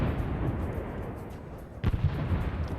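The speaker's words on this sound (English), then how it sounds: "Now we got mortars going out." Mortar rounds launching in a Vietnam War video game, a low rumbling thump of artillery under continuous battlefield noise, with one heavier, closer burst standing out partway through.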